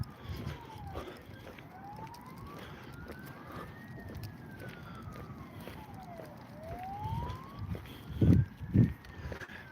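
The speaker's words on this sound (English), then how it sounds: "Sounds like there's an ambulance out," A distant emergency vehicle siren wails in slow rising and falling sweeps across Hollym beach, faint under wind, with a few low thumps close by near the end.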